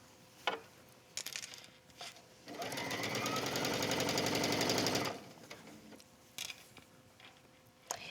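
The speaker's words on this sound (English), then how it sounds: "as soon as I pull it out of the sewing machine" A sewing machine stitches a gathered waistline on a wrap dress in one steady, fairly loud run of about two and a half seconds, framed by quiet handling clicks and taps before and after.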